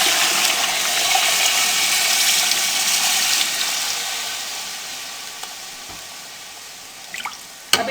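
Water pours steadily into a cooking pot of vegetable pulao with 1.5 kg of rice, a loud continuous gush that slowly tapers off, ending with a few drips and small clanks.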